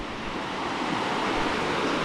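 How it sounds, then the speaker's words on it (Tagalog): River water rushes in a continuous broadband roar at a crossing point, loud and close, with no breaks and no voices. "Tatawid na ho kami dito sa ilog."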